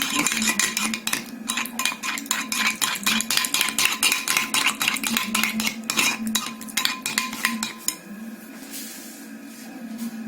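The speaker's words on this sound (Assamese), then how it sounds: "একাপ দৈ ইয়াতে মই লৈ লৈছো এইখিনি মই খুব ভালকৈ ফেটি লৈছো" Curd (yogurt) is whisked briskly in a bowl, giving rapid rhythmic clinking and scraping strokes that are close and fairly clear, then slowing to softer stirring after about eight seconds.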